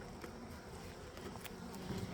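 A steady, dense buzz of many bees swarming at a hive hums throughout, close by and fairly even, with no talking.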